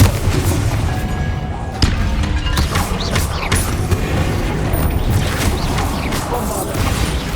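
Confringo fire spell blasts in Hogwarts Legacy, loud booming explosions and crashes repeating over a dense, continuous roar of combat noise, close and heavy.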